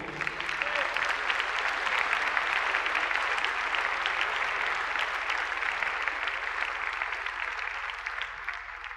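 A church congregation breaks into sustained applause during a sermon, thick continuous clapping filling the room at a steady level for nine seconds.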